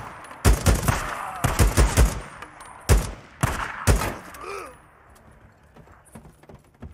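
Rapid gunfire in Days Gone, loud close bursts and single shots in clusters, with a brief creature screech between volleys before the shooting trails off into quiet.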